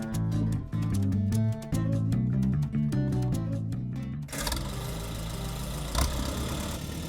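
A 1952 Silver King tractor engine idling with a heavy, even low chug that repeats in a steady rhythm, then giving way to a rougher, broadband running sound, heard fairly close.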